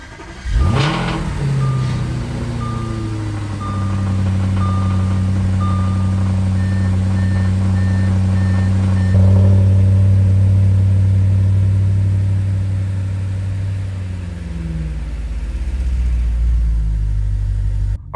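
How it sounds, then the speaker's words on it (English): A 2015 Audi RS5 with a 4.2-litre V8 cold-starting at home after an oil change. The engine cranks and catches, then settles into a loud, steady, high fast idle, with a warning chime beeping repeatedly early on. "Now the next step is to fire this thing up. Time for a cold start."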